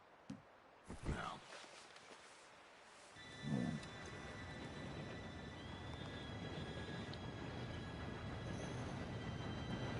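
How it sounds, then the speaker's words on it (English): A train in the Red Dead Redemption 2 video game approaches and rolls in, a rising rumble of wheels with thin metallic squeals that swells and holds after a few brief, faint voices at the start. "Train should be here any minute."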